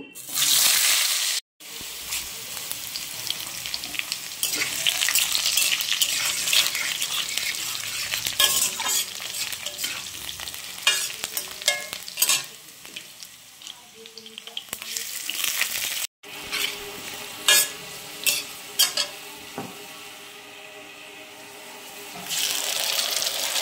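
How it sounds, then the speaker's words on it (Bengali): Potatoes go into a kadai of hot oil used for banana kofta curry, crackling and sizzling steadily while a utensil stirs and scrapes, with brief breaks and occasional clinks. "এই কড়ার মধ্যেই, যে কড়ার মধ্যে আর কি ভাজলাম বড়াগুলো, তো ওর মধ্যেই দিয়ে দেবো আলু।"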